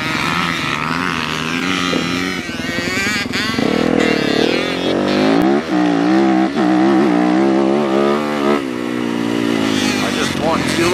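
Yamaha YZ250 two-stroke dirt bike ridden at the Aztec Family Raceway motocross track, its engine revving up and down loud and close throughout, with a person talking over it.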